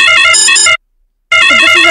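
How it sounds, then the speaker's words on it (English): Loud electronic ringtone alarm from a multi-vendor delivery app announcing a new order, a bright repeating melodic tone in two bursts separated by a short silence. "that is how alarm notification the delivery boy will get"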